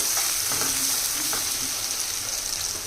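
Onion pieces sautéing in a pan with kanda (yam) and dried fish cooking, giving a steady, loud, hissing sizzle with a few faint scrape-like stirs and no voices.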